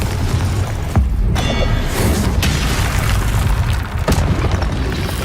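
Confringo fire spell blast in the Hogwarts Legacy video game: loud booming bursts with sharp transient cracks near 1, 2.4 and 4.1 seconds over a continuous dense rumble of combat noise, no talking.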